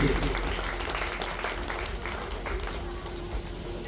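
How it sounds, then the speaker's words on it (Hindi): An audience at a Bhagavat Katha religious festival claps loudly and continuously, a dense wash of applause holding steady from start to finish. "जोरदार ताली हो जाना चाहिए इस संदेश के लिए"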